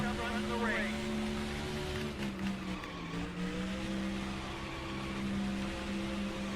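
A race car in NASCAR Thunder 2004 drives at speed: a steady engine drone with shifting harmonic pitch fills the whole stretch, and someone talks over it.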